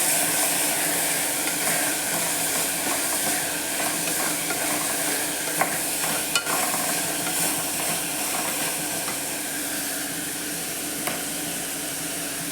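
Turmeric powder stirred into vegetables frying for a veg kurma makes a steady, close hiss and sizzle with a few faint scrapes, constant and unbroken, with no talking.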